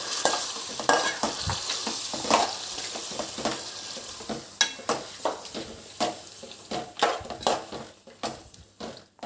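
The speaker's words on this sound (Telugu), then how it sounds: "చికెన్ వేసుకున్నాక ఇప్పుడు దీన్ని కలుపుతాం." Chicken is stirred in a pot for dum biryani, with rhythmic scraping and clinking strokes of a spoon over a soft sizzle, close and alone.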